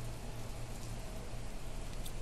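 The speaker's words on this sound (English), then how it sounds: "It's raining outside." Steady rain pouring down in the Planet Crafter video game, a dense, even hiss of falling water with a low rumble underneath, continuous and alone throughout.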